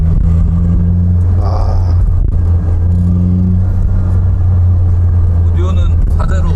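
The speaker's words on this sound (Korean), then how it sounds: "이렇게 매끄럽게 돌아가는 엔진이 이 당시에 있었다니까." A Toyota AE86 Sprinter Trueno's engine runs smoothly with a low, steady rumble and occasional rises in revs, heard from inside the car while people talk over it.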